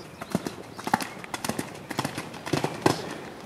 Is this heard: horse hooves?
yes